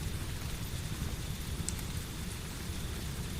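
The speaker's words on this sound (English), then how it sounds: "Thunder rolls distantly now, farther away." Distant thunder rolls low and steady beneath a constant wash of rain, with no voices, forming a continuous stormy backdrop throughout.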